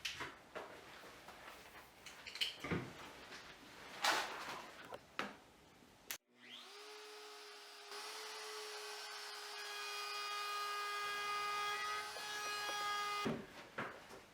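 A router cutting dovetail joints in wood, preceded by several scattered knocks and shuffles, then a whining motor that spins up and holds a steady high tone for about seven seconds before stopping.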